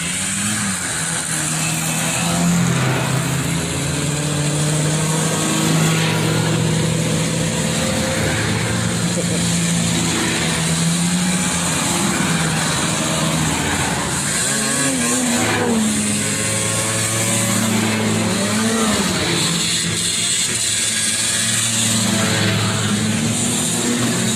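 Vintage snowmobiles, including a 1964 machine, ride past one after another at an outdoor gathering, their small two-stroke engines droning and revving steadily at mid distance while people talk over the noise throughout.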